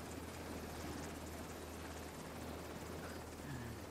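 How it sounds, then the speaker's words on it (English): A helicopter in the video game The Division 2 drones steadily, a constant rotor rumble that stays at an even distance and level throughout, with no talk. "that makes sense that it's coming from the chopper"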